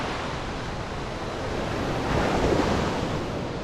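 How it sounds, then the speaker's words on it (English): Ocean surf breaks steadily on a warm Brazilian beach lined with palm trees, a continuous loud wash of waves with wind noise and no voices. "with nice waves like that"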